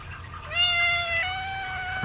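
A cat gives one long, clear, drawn-out meow close by, steady and tonal with a small break partway, over quiet room noise and no talk.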